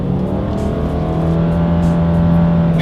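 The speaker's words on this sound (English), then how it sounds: "let's go ahead and do a quick little acceleration here, and let's see how quickly we can get the new 2020 Subaru Forester here up to speed" A 2020 Subaru Forester accelerating from inside the cabin, the engine drone rising steadily in pitch as it gains speed, loud and continuous with road noise beneath and no talking.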